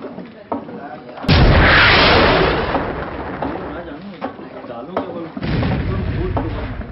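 A homemade wooden AK-47-style gun fires a sharp blast, followed by a long rumbling roar that fades, then another loud burst later; muffled noise between them.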